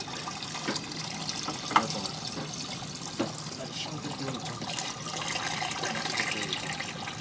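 Water runs steadily into a container in a flood-alert test rig with magnetic reed level sensors, a continuous trickling fill with a couple of small splashy knocks while a voice talks over it.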